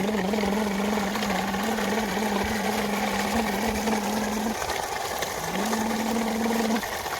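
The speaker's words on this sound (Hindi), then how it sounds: "चलो मेरे ट्रैक्टर" A cartoon tractor engine runs with a steady low droning hum and chugging texture, briefly dropping out for about a second before resuming at the same pitch.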